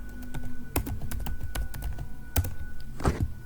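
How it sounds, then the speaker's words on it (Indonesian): Quick keystrokes on a computer keyboard typing the git status command, a close, clattering run of irregular taps with a few heavier key presses. "Jadi kita ketik git status."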